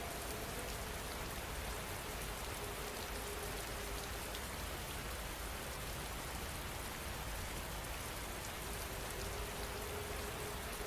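Steady rain falls and patters continuously on surfaces, a soft, even hiss of droplets with no voices or other sounds.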